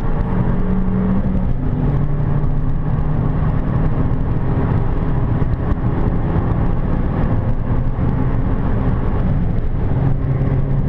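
Continuous low, rumbling Abarth 695 Biposto engine hum with steady whirring, heard from the passenger seat on a race track, close and loud, no voices.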